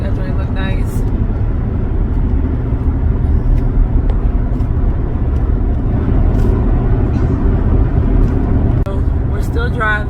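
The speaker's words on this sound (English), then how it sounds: "So we're still driving." Steady loud road and engine rumble from inside a car driving along, continuous throughout with faint rattles and a brief voice over it.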